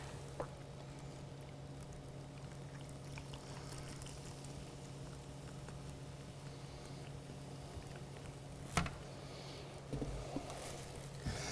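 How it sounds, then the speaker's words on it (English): Sprite is poured over watermelon ice cubes in a glass, giving a continuous, fizzy, bubbling hiss with a few faint clinks near the end. "And pour some Sprite right over the top of it."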